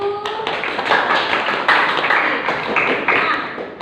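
A classroom of students clapping together after a lesson on poetry, a short burst of brisk, close applause lasting a few seconds with no talking.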